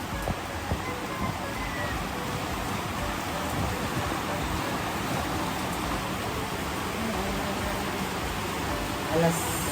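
Heavy rain pours steadily in a dim shop, a dense, loud, unbroken hiss that fills the whole stretch with no letup.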